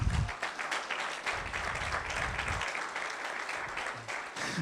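A church congregation claps and applauds together in a continuous, fairly loud wash of sound, with low rumbles underneath and no speech.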